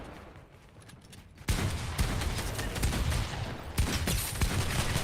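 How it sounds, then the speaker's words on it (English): Distant gunfire in the battle royale game Fortnite crackles in repeated bursts and volleys after a quiet opening, sharp shots layered over a dense background of far-off fire. "So much gunfire happening afar."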